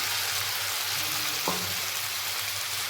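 Spice paste sizzles steadily in a pan as tomato paste goes in for a Bengali steamed egg bowl dish, with one brief clatter midway and a constant bright frying hiss throughout.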